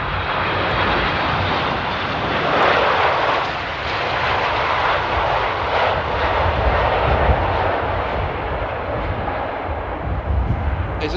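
Boeing 747 jet arriving at Amsterdam airport in stormy weather, a loud continuous broadband engine roar that stays steady throughout, heard from the ground without talk.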